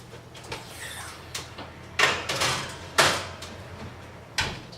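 Oven door handled while putting raisin scones in to bake, a series of sharp clunks and knocks with a couple of louder bangs, close by in a quiet kitchen.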